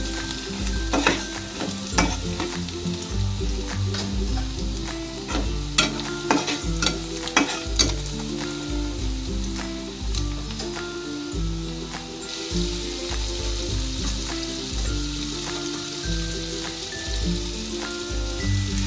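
Spices fry in oil with Kashmiri chilli, for chicken kosha, a loud, close, steady crackling sizzle broken by frequent scraping strokes of a spoon being stirred through the pan, with no voices.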